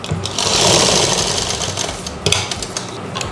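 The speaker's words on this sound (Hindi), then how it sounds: "और इसके सेंटर में एक सिलाई लगा देंगे" A sewing machine runs steadily and loudly, stitching the neckline of a kurti with a fast, buzzing mechanical whir, briefly pausing before resuming.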